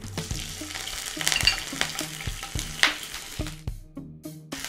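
Two slit green chillies hit hot oil already seasoned with star anise, marathi moggu, kalpasi and fennel for a spicy mutton varuval, giving a busy steady sizzle punctuated by repeated knocks and clatter of stirring against the pan.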